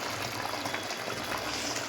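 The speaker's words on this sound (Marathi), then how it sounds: "उकळी आल्यासारखं झालं ना की बेसन झालं." Besan gram flour curry comes to a boil in a pan, a soft steady bubbling and simmering hiss heard close up without talk.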